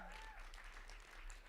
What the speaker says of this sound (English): So can we give him another round of applause